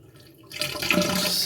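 Milky liquid from a chemical preparation of colloidal metal is poured off into a sink, starting suddenly after a quiet moment as a steady splashing gush that stays fairly close and moderately loud.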